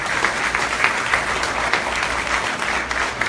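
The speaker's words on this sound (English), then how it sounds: "So one round of applause for Harman Kaur and Sandeep" An audience at a Sikh community event gives a round of applause, dense continuous clapping at moderate distance with small swells, lasting the whole stretch.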